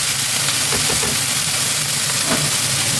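Cabbage hits a hot pan for a Chinese-style stir-fry with egg, setting off a loud, steady sizzle and hiss that fills the whole stretch without pause, no voices over it.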